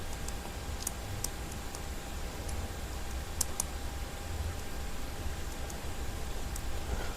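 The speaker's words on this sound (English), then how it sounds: "So let's go ahead to type the password." Someone types a password on a computer keyboard. The keystrokes come as quiet, irregular clicks over a faint steady hiss, with no talking.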